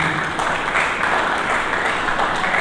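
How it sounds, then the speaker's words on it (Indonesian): A church congregation applauds during a worship sermon, steady sustained clapping from many hands filling the room without pause. "Berikan tepuk tangan bagi Dia."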